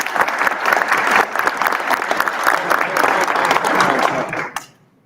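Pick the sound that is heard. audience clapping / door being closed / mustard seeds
audience clapping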